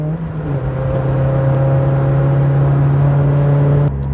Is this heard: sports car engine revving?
yes